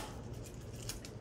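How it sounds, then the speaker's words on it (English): A utility knife slices into a cardboard box holding a reverse proof silver coin set, giving a close, steady scraping cut with a brief sharper rasp near the end. "I'm cutting into it right now with a utility knife"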